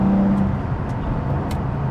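Aston Martin Vanquish V12 restomod with a manual conversion pulls away under throttle, its engine a loud, steady close-up drone with a rising tone and no talk over it.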